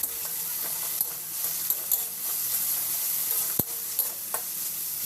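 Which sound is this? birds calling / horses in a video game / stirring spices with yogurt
stirring spices with yogurt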